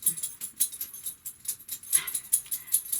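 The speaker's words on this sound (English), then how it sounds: "I still got dogs here. My dog and my grand dog is still visiting, so that's with all the rattling" Light rapid jingling and rattling, like dog tags and collars shaking as dogs move about, with soft pattering in an irregular rhythm.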